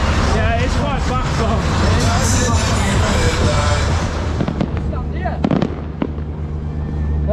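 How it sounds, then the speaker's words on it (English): Jubilee fireworks bursting outdoors in the rain at Morecambe, a dense run of crackling, popping explosions that thins out into scattered bangs, with crowd noise around. "there's your Jubilee fireworks in the rain"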